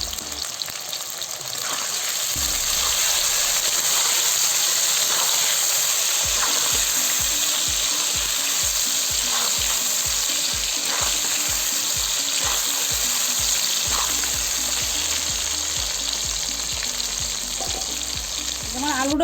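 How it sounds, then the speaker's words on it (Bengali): Potatoes fry in hot oil for an omelette curry, giving a steady, loud sizzle throughout with a series of quick rhythmic knocks and stirring clatters in the middle. "তেলটা গরম হয়ে গেছে এই যে আলু কটা ভেজে নেবো"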